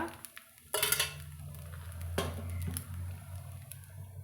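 A lid goes onto a new appam pan with a sharp metallic clank, followed by a second lighter knock, then a low, steady cooking hum underneath.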